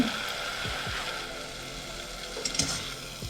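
Spicy kokis batter, seasoned with chili powder and shaped with a mould, frying in hot oil, giving a close, steady sizzle with a few sharper pops and crackles near the end.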